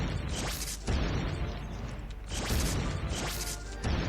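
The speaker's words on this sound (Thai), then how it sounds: "โดนระเบิด" Explosions in a castle-siege mobile game go off as three loud booming blasts, each a sharp crash followed by a decaying rumble, spaced roughly evenly apart with no talking.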